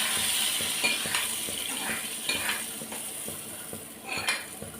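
Tempering for sambar sizzles steadily in a pan while a spoon stirs and scrapes it, with several metallic clinks and scrapes coming at irregular moments over a constant hiss.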